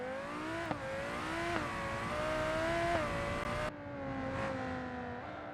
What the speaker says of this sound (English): So let's take it for a drive.